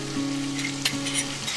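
Tomato with turmeric, chili, cumin and coriander powders sizzles in a pan, a soft steady crackle with a couple of brief sharper pops, close and alone without speech.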